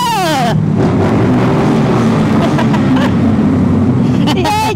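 Imported motorcycle engine downshifting on a first ride, a loud continuous drone with falling and rising pitch sweeps at the start and end, steady revving throughout under wind noise.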